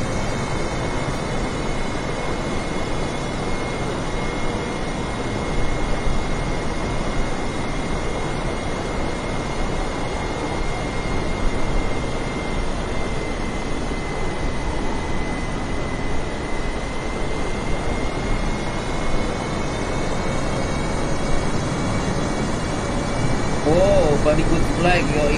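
A steady, broad roar of airplane cabin noise during descent before landing, with a constant hum and hiss that stays even and loud throughout and a faint voice briefly near the end.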